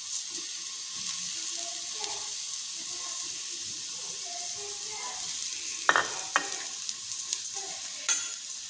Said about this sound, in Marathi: कांदा कारलं बरोबरच भाजायचा आहे